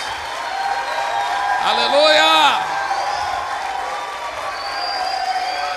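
Congregation clapping and cheering strongly for Jesus during a church worship service, a steady wash of applause with a voice calling out over it in the middle.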